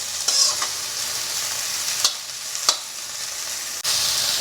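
Onions fry in a pan with a constant close hiss of sizzling oil, broken by a few sharp stirring scrapes and ticks, and no voices.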